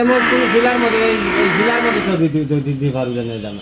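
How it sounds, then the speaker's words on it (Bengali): A large water buffalo lets out a loud, close, drawn-out moo that wavers in pitch and then breaks into shorter pulsing grunts toward the end. "দর্শক দেখতে পাচ্ছেন বিশাল সাইজের একটা মহিষ"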